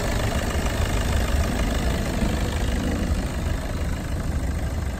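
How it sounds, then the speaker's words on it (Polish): Volkswagen Golf VII engine idling with a light ticking, a steady close mechanical hum and patter that holds evenly throughout, with no talk. "Silnik tylko tyka."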